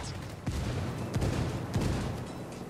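Gunfire in the video game Ghost Recon Wildlands: a few sharp shots at about half-second to one-second spacing over a steady, noisy battle backdrop.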